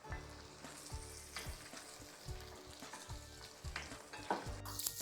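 Steady oily sizzling of green chillies and cashews sautéing in a pan with intermittent scraping stirs, close and moderately loud, no voices.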